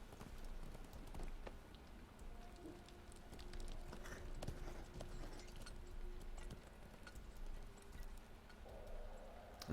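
A rider's horse in Lord of the Rings Online clip-clops along with a steady, quiet hoof rhythm, joined by faint game tones and ambience, no speech.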